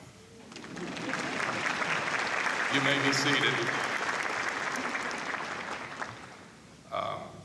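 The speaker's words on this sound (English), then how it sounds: "You can clap for them." Sustained audience applause fills a university commencement hall at a College of Pharmacy ceremony, steady and broad for several seconds before tapering, with someone speaking over it near the end.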